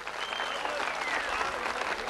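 Steady applause from an audience at a town cultural and arts event in Güzelbeyli, sustained and fairly even throughout, with faint crowd murmur beneath.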